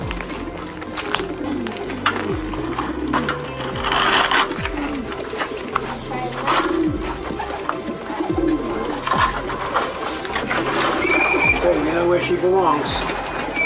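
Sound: birds released to fly

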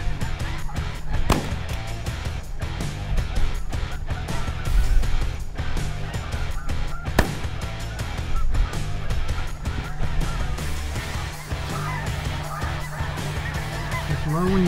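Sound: snow geese honking during hunt

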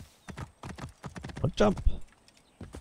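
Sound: horse hooves clip-clopping in the video game Assassin's Creed Origins

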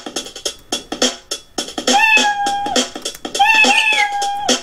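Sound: Scratch meow sound effect played

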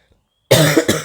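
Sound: coughing

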